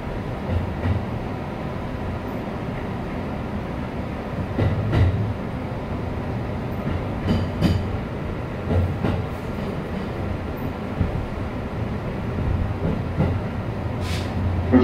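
A Jōban Line local train between Tsuchiura and Kandatsu, Japan, rolls along the rails with a steady rumbling drone heard from inside, with occasional rattles and clacks over the track.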